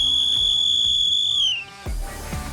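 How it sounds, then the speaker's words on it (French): A single long, shrill whistle blast starts a football event, loud and steady, then cuts off, followed by a thump and general noise. "Le coup de sifflet donné par Lionel, le chef de projet."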